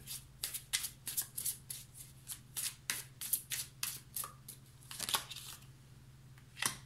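Tarot cards being shuffled and handled, a quick series of crisp riffling and slapping bursts up close, fairly quiet, with a faint steady hum underneath.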